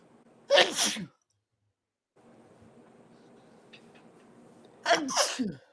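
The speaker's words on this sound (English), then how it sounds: "gotta sneeze. Hang on." Two sharp, loud sneezes, one at the start and another near the end, separated by a quiet stretch of low background noise.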